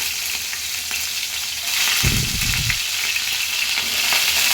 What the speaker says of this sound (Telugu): ఆవాలు వేస్తున్నాను అవి అయితే ఫ్రై అవుతున్నాయి